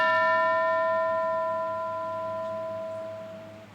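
A classroom bell gives one clear, ringing strike with a pure metallic tone that hangs in the air and slowly fades over several seconds, with nothing else around it.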